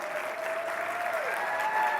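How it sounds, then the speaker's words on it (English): A conference audience claps steadily in a dense, even wash of applause that holds for the full two seconds, with a faint tone running beneath it. "Give them a round of applause"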